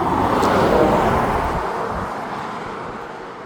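Steady broadband rumble of a truck engine and road noise, loud and continuous, slowly fading over a few seconds, with no talking.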